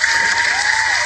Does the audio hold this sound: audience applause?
yes